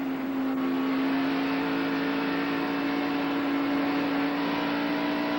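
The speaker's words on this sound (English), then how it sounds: "You hear that Keith Allman engine coming up to full song as he goes down the backstretch" A stock car's engine at the 1991 Budweiser 500 climbs to full power down the backstretch, a steady, loud, continuous drone with a strong sustained tone throughout and no voices.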